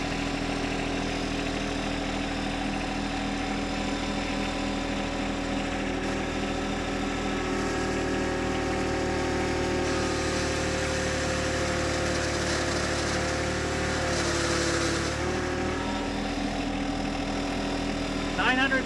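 A John Deere 1025R compact tractor engine idling during a pulling test, a steady close mid-pitched rumble holding even throughout with a slight rise near the end.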